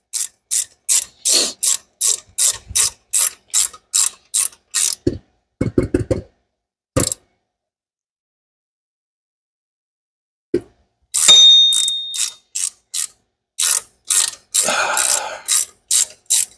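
A ratchet wrench clicks loud and close during work on a budget turbo Mustang's power steering pump, with rapid bursts of ratcheting separated by short pauses and a few sharper metallic clinks.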